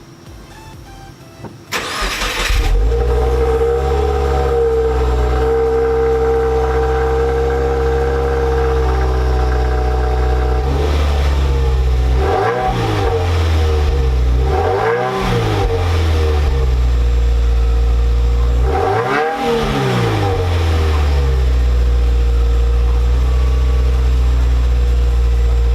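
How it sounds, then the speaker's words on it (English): A car with a V engine cranks and fires up, settles into a loud, deep idle, then gives several throttle blips that swell and drop back, its exhaust rumbling up close with no talking. "I'll roll in an audio clip of the exhaust for you right now."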